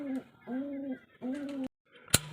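Large female pigeons coo nearby in three drawn-out, throaty phrases with short gaps between, followed by a sharp click after a brief silence.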